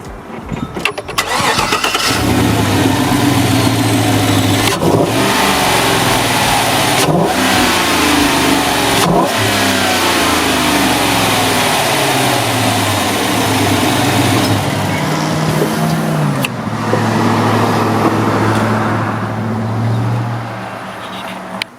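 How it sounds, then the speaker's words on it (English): A modified Chevy Tahoe engine cranks and fires up, then revs repeatedly with rising and falling roars before settling toward idle, loud and close throughout. "the way the engine sounds"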